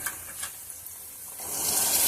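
Sesame paste and water hitting a hot kadai give a steady sizzle that grows louder and brighter toward the end, close and alone with no talk.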